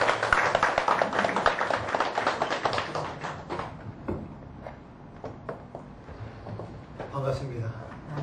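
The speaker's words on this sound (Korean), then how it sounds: "우리 박수로서 환영하겠습니다." Church congregation clapping to welcome a pastor to the pulpit, a dense burst of many hands that thins out after a few seconds into scattered claps, with murmuring voices underneath.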